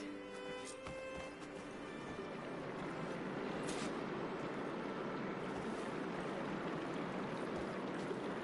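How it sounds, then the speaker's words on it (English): Water flows steadily inside a room in the video game Horizon Forbidden West. The rushing wash is continuous and grows slightly fuller over time, with faint tonal sounds early on. "Aloy, I can hear water in the room again."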